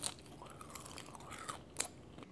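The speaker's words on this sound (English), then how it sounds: "If you want to listen to Juicy Joe eat, there it is" Someone chews a homemade copycat Applebee's quesadilla burger up close, with soft crunchy bites and wet mastication sounds in a short, quiet stretch with no talking.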